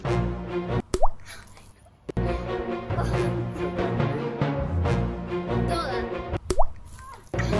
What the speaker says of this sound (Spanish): lo vamos a mojar con un vaso de agua